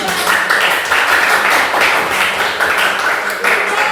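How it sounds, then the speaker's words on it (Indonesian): A group clapping hands in a classroom lesson, brisk, fairly loud clapping with a loose rhythmic pulse, close by and steady for a few seconds. "Oke, tepuk tangan dulu."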